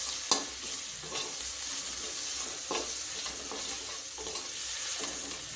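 Chilli powder, cumin powder and coriander powder get stirred into a frying mixture, a steady gentle sizzle broken by a few sharp spoon-against-pan scrapes at intervals.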